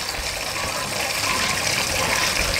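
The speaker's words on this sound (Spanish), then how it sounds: "Sí, ahorita está viniendo el agua. Vamos a echar agua adentro." Water gushes steadily into a container, a continuous broadband rush that stays even and close for the whole stretch, with no voices over it.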